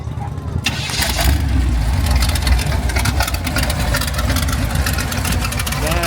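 A classic car's engine revs up from a short quiet start and holds a loud, steady roar at a Route 66 Heritage Days gathering in Ash Fork, Arizona, with people talking over it.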